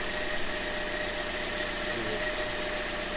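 Warmed-up Toyota Corolla engine idling inside a repair shop, a steady even drone with a faint rhythmic knock and hum, continuous and close with no talk.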